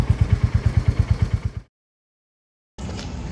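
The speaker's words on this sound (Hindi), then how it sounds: "ये J सीरीज़ इंजन है।" A Royal Enfield Bullet 350 with the J-series engine idles with a steady, loud, rhythmic thump, a fast even pulse that cuts to silence partway through before a steady engine-like rumble returns.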